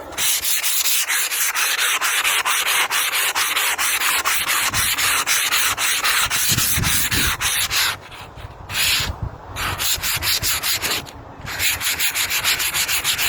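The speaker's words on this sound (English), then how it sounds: "just like sandpaper, you've got to go through the grits, you know, the different grits." Sandpaper works across a stone headstone through progressively finer grits, a loud close rhythmic rasping of rapid repeated strokes that runs for many seconds with a few short pauses, no voices.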